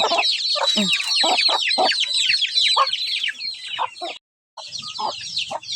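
A mother hen clucks busily at close range in a backyard chicken run, giving a rapid continuous stream of clucks and chatter with other fowl and a brief silent break near the end.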